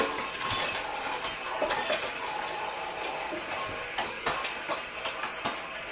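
A teaspoon clinks and scrapes against dishes while dumplings are prepared in a home kitchen: bright, irregular metallic taps come close up and fairly loud, clustering more densely toward the end.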